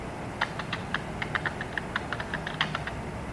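Quick, irregular keystrokes on a computer keyboard while text is typed in Microsoft Word, close and fairly soft, with no talking.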